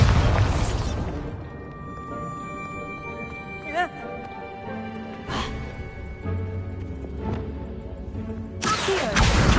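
A Bombarda blast spell cast in the Hogwarts Legacy video game, heard as a few sharp, booming bursts amid busy game sounds, with a voice present in the mix.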